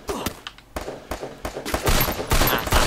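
Rapid bursts of gunfire in the shooting game Garena Free Fire, loud sharp cracks coming in clusters that build into a dense, continuous volley toward the end.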